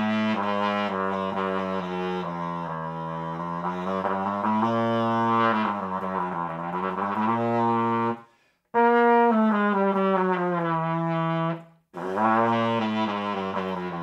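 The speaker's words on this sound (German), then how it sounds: "mit jedem dreiventiligen Flügelhorn kann ich ja schon mal den ersten Naturton spielen" A three-valve flugelhorn plays low notes in its bass register, sustained rich tones shifting pitch in a slow line, with two short pauses between phrases, close and clear with no talk.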